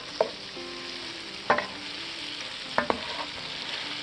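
Sausage and bell peppers sizzle quietly in a pan under a steady frying hiss, with three distinct scraping stirs of a utensil spaced a second or so apart, close and alone without any talk.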